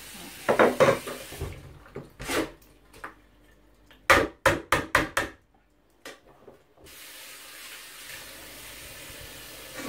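Okazi leaves being washed by hand in a bowl of water, with sloshing, rubbing and a series of sharp knocks against the container, then a steady running trickle near the end.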